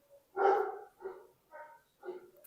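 A dog barks indoors, one loud bark followed by three shorter, softer barks in an uneven rhythm, heard fairly close with no voices over it.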